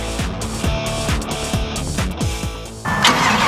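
Huge custom-built motorcycle engine cranking over with heavy rhythmic starter thumps, then catching and running with a loud, rough mechanical roar close by.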